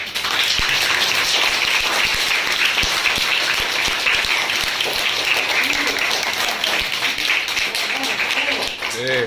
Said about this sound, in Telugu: మీరందరూ కూడా చప్పట్లు కొట్టండి.